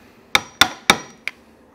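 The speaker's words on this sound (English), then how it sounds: "I'll go around and chisel them all out rather than stopping and starting" A mallet driving a chisel into wood to cut a mortise for a hand-built garden gate: three sharp, evenly spaced knocks, then a fourth lighter tap, close and crisp with no talking.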